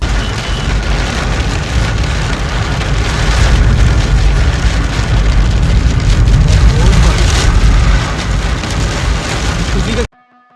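Steady rain falls during a drive into Islamabad, Pakistan, a dense continuous wash of patter and road hiss that holds loud and even for about ten seconds before cutting off abruptly.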